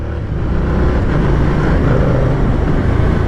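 A 2023 Moto Guzzi V100S Mandello motorcycle riding under power as it shifts through gears with a quick shifter: a loud, steady engine drone with wind rush, the shifts barely breaking the continuous roar.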